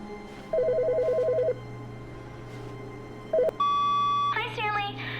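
An electronic phone in The Stanley Parable video game trills in a rapid warbling ring, then a short beep and a sustained electronic tone follow over a steady low hum.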